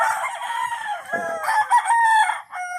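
A gamecock rooster crows loudly and close by, one long rising and falling crow with a brief break near the end.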